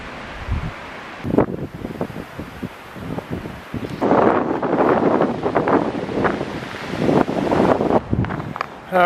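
Strong wind buffets the microphone in loud, uneven gusts on a hiking trail near Mitchell Point, roaring and rumbling continuously with rustling noise and no talking.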